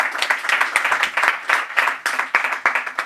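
Hearty audience applause at a Punjabi Sufi poetry conference honouring Khawaja Ghulam Farid in Lahore, dense steady clapping with sharp individual claps standing out, sustained for the full stretch.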